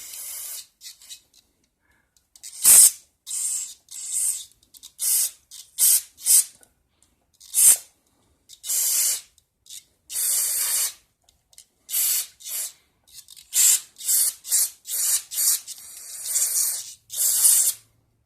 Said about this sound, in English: I'm going to use this to kind of spray off this shaft and that bearing there.